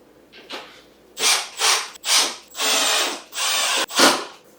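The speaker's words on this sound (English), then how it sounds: "using something with a little drill, electric drill, is a little bit faster" An electric drill driving screws into wood whirs in a series of short bursts, each rising and cutting off, with one longer steady run near the end, close and loud.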